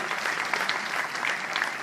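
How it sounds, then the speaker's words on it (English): Audience applause at a Drupa 2012 printing-industry press conference: dense, steady clapping from many hands, loud and continuous throughout with no break. "keep your applause, please."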